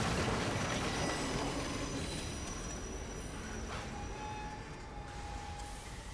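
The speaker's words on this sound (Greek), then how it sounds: "Πόσο αργό είναι αυτό το τρένο, θα με έχει πατήσει τώρα." A slow train rolls past in Assassin's Creed Unity, a loud rumbling wash of wheels and carriages with high metallic squeals rising near the end, fading slightly over six seconds without talk.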